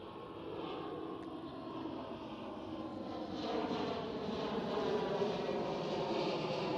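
A Lufthansa airliner in old livery passes at Schiphol, Amsterdam, a smooth broad engine roar that swells gradually and grows louder toward the end, heard alone without voices.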